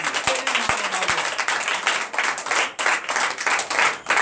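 A church congregation at a night deliverance and prophecy service bursts into loud sustained applause and acclamation, many hands clapping briskly with cheering voices mixed in, alongside a few low drum-like thuds at the start.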